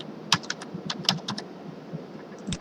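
Rapid, uneven clicks of a computer keyboard being typed on while setting up a quiz, close and clear with short bursts and pauses, no talking.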